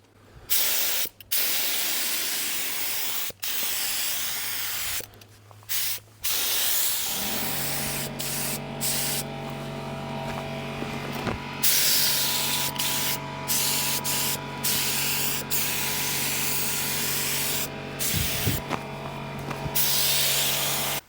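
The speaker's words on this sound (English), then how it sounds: "We're going to spray the second coat on this sheet metal" Spray-gun paint hisses onto the sheet metal of a 40-year-old tractor in repeated bursts with short pauses, and partway through a steady low compressor drone joins beneath the spraying.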